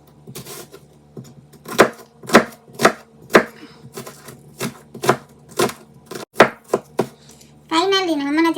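A knife chops vegetables for chicken tinola with potato and carrots on a cutting board, a dozen or so sharp, irregular knocks up close. A voice briefly speaks at the end.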